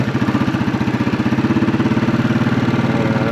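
A Royal Enfield Classic 500 fitted with a Hitchcock's Goldstar exhaust idles loud and close, its deep, even thump-thump pulse steady throughout with no voices.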